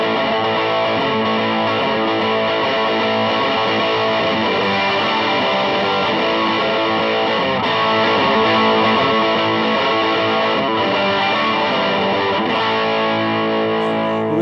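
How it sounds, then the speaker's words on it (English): An electric guitar plays through a Seymour Duncan Dirty Deeds distortion pedal. The chords are thick, saturated and loud, sustained continuously for about fourteen seconds with no talking. "onward with the Dirty Deeds by Seymour Duncan, distortion pedal, and it sounds like this."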